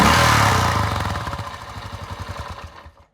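A 1981 Yamaha TT500 single-cylinder motorcycle engine runs loud and close, then its thumping pulses slow and fade out as it is cut off with the kill switch.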